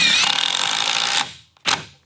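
Metabo HPT triple hammer impact driver sinks a FastenMaster 3.5-inch guard dog screw into pressure-treated hemlock, a loud continuous hammering rattle lasting about a second, then a short second burst after a brief pause.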